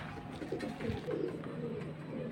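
Paired Pakistani high-flying pigeons give low, continuous cooing, several birds overlapping in a steady murmur close by.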